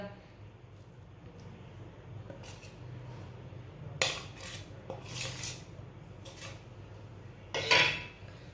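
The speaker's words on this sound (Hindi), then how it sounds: "पहले हम चम्मच के साथ ना अच्छी तरह मिक्स करेंगे।" A spoon stirs warm dates in a pan on a home stove with soft metallic scrapes and a few sharper clinks against the pan, while someone talks quietly over the low background.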